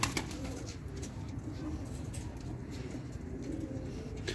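Ankara Matbaacılar tumbler pigeons coo in a soft, low, rolling murmur that carries on continuously, close and fairly quiet, with occasional flutters and clicks among the birds.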